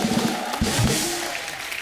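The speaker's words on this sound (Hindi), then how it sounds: "अनुपम सर के लिए जोरदार ताली हो जाए" A studio audience at The Kapil Sharma Show bursts into dense, loud applause that holds steady for the whole short stretch, with a few brighter claps poking through the wash.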